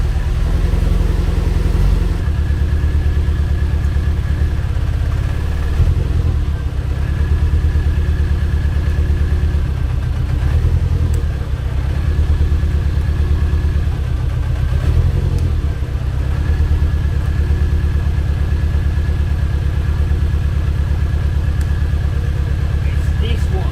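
Car engine idling steadily in a garage with one cylinder misfiring, a continuous close rumble with slight uneven pulsing throughout.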